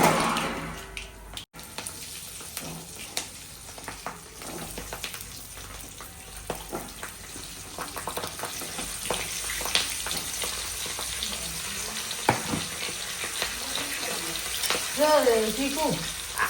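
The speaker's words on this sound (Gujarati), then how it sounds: "તો અહીંયા મરચાં વઘારવાનું પ્રોસેસ ચાલી રહી છે." Chilies tempering in hot oil at a wedding-season cooking setup, a continuous frying sizzle with watery crackle, mid-distance, while people talk intermittently in the background.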